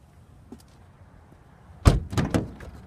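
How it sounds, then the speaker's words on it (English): The power sliding door of a 2015 Kia Sedona minivan gives a heavy thunk followed by a brief rolling, mechanical rumble as it travels and latches, close and fairly loud after a quiet stretch with a faint click. "Power sliding doors"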